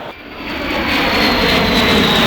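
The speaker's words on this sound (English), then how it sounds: "The B-52 is a huge American Air Force jet bomber. It's coming to our show" A huge American Air Force B-52 jet bomber flies over an air show, a loud, broad jet roar that swells steadily and stays close and overpowering for the whole stretch.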